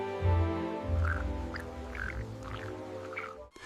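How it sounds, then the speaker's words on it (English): Frog croaking in a fairy tale scene, a series of about five low, throaty croaks at a steady rhythm, close and moderately loud, with a sharp thud at the end. "there he was, the little green frog"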